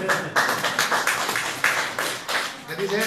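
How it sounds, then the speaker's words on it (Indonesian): A church retreat audience claps together after a pastor asks for applause, giving a steady run of close, repeated hand claps that rise and fall over about three seconds. "Beri tepuk tangan dulu."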